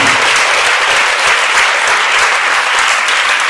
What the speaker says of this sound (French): Et on peut l'applaudir s'il vous plaît.